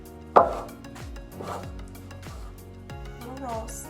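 Dough for pizza rolls pressed and cut with a small cutter against a pan, one sharp cut followed by softer scraping taps, with a tonal musical backdrop running underneath.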